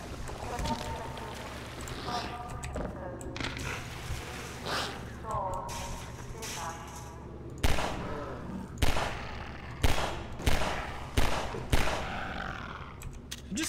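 Pistol shots ring out in a video game, a series of sharp, fairly loud cracks spaced about a second apart over a rumbling backdrop, with a voice talking earlier.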